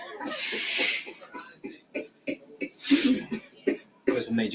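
A person coughs several times in short harsh bursts, with breathy rasping between them, close to the microphone.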